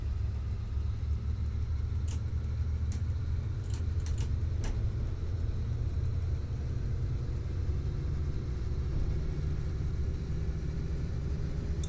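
SU45 diesel locomotive hauling three passenger wagons pulls away in the MaSzyna train simulator, a steady low engine rumble and drone holding throughout, with a few faint clicks early on.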